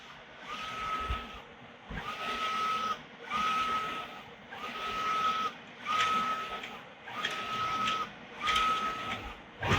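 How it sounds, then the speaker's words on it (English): A Mimaki UCJV300-160 UV LED printer/cutter prints stickers, its carriage making repeated passes with a steady whirring and a sustained tonal whine roughly every second and a half, close and loud with no voices. "As you can see, it's printing a lot faster."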